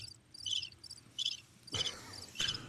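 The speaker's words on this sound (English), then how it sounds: "It's just not the same if you don't do the crickets." Cricket chirps played as a comic sound effect, repeated bursts of high trilling in a steady rhythm with a couple of louder thumps, no voices.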